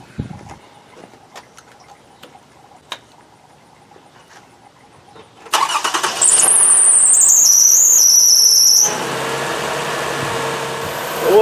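A 2005 Toyota Highlander engine cranks and fires after a coolant flush, with a loud high belt squeal wavering over the start for a few seconds, then settles into a steady idle, preceded by scattered clicks and small knocks.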